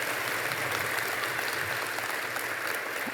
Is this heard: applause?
yes